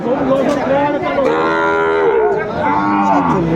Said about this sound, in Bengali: সুন্দর গরুগুলো কালেকশন করতে পেলাম